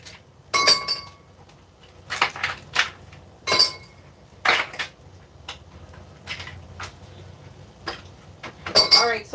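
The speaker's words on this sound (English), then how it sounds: "I'm just going to add 2 or 3 pieces of ice to this glass" A few ice cubes clink into a glass in a home kitchen, a scatter of sharp bright taps and knocks spaced irregularly over several seconds, close and clear with quiet gaps between.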